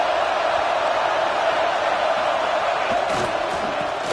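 Dense, steady roar of a packed football stadium crowd cheering and yelling during a game, loud and continuous throughout with a few sharper whoops rising near the end.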